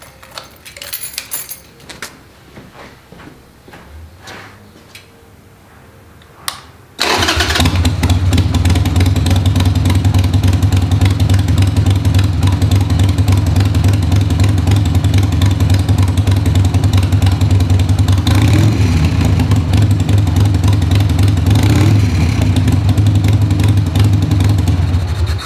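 A 1999 Harley-Davidson Sportster with stock exhaust: keys jangle and a few clicks first, then the engine fires up and runs loud and close, with a deep steady idle and occasional revs.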